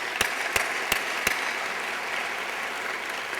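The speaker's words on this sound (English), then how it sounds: "Please give them a round of applause." Sustained crowd applause at a city mayor's state of the city address, with a few sharp, distinct claps standing out near the start before the clapping settles into an even wash.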